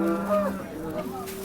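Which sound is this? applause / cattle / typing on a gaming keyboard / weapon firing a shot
cattle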